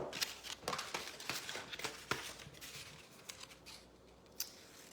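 Scissors make rough cuts through paper while a purse pattern is trimmed, giving a run of sharp, close snips in an uneven rhythm that thins out and ends with one last crisp cut.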